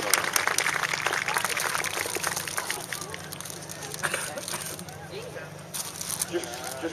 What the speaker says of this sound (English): give them a nice clap